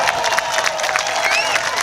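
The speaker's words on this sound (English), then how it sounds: "Round of applause for all the people who fed back." A protest crowd on Waterloo Bridge cheers and applauds in a steady, loud wash, with whoops and shouted voices rising above the clapping.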